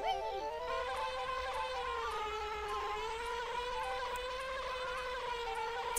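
A bee buzzes steadily in the video game Banjo-Kazooie, a continuous, synthetic, reedy hum that wavers gently in pitch, loud and alone with no talk.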